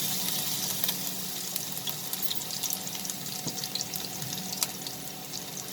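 Chopped garlic fries in heated oil, giving a steady, close hiss and sizzle with scattered crackles and pops.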